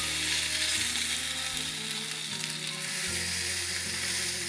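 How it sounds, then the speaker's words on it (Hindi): Palak uttapam toast sizzles steadily on a pan over low heat after being flipped, a continuous close frying hiss with faint low mechanical hum beneath and no talk. "और धीमी आंच पे दोनों तरफ हम अच्छी तरह सेकेंगे इसको।"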